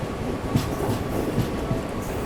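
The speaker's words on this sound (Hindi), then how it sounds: "अभी अपनी ट्रेन पहुंच रही है अपने सेकंड स्टॉप पर" Steady rumble and rhythmic clatter of rail wheels, heard from aboard the Vistadome coach of the Naharlagun–Guwahati Shatabdi Express as it pulls into a station; loud and continuous with no voices.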